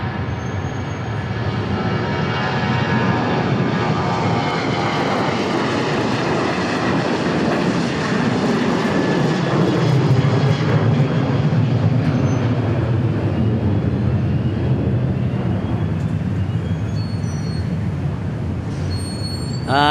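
An MD-80 series jet airliner at Dallas Love Field produces a steady, loud roar of jet engine noise that holds for the whole stretch, broad and continuous with no talk over it.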